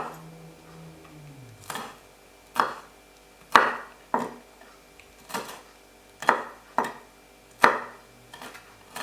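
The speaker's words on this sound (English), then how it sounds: "and then just chop the chilies. Finely chop them." Green chilies being finely chopped with a knife on a board: about a dozen distinct, crisp knife strikes at an irregular, unhurried pace, close and clear against quiet surroundings.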